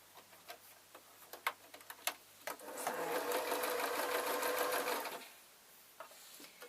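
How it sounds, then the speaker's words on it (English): Sewing a rag doll by machine: a fast, steady whirring run of stitching lasting about two seconds, preceded and followed by scattered quiet ticks and clicks of handling. "And then I'm going to start sewing again."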